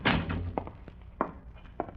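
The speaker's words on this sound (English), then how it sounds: "I heard the front door open" A front door opening as a radio drama sound effect: a dull thud of the latch and door, then a few quieter knocks and clicks, fairly close and alone, with no talk.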